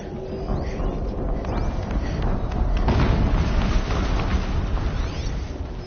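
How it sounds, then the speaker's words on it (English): A rumbling explosion in Horizon Zero Dawn, set in a snowy, foggy landscape: a dense, sustained roar with a heavy low-end swell peaking midway, then slowly settling into a continuing rumble, with no voices. "An explosion."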